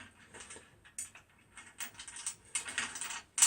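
Small metal washer and nut clicking and rattling as they are threaded and tightened on a universal mounting kit, close-up irregular light ticks and scrapes with no talk.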